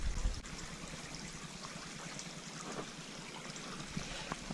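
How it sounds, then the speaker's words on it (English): Floodwater from heavy flooding runs backwards into an inlet of Beech Lake, Tennessee, making a steady close trickling, gurgling flow that holds level throughout with no talk. "This water flows backwards into the thing."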